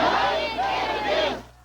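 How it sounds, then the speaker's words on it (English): Enthusiastic crowd gathered outside the Lithuanian president's office, a loud mass of overlapping shouts and cheering voices swelling and falling in a brief burst before cutting off. "The crowd was clearly audible outside."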